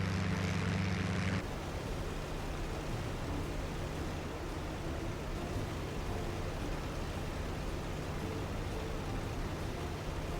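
Steady drone of a P-51 Mustang's engine in flight in a flight simulator game, loud and continuous with a broad airy roar that shifts slightly at the very start, no voices.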